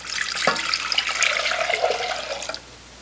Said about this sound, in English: So in a saucepan, I'm going to add 4 cups of water.